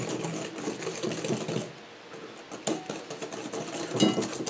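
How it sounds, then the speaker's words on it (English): A whisk beats salt and nutmeg into a homemade eggnog mixture in a bowl, a quiet, rapid rattling and clicking that runs unevenly, fading briefly before picking up again. "And you just want to kind of whisk this in."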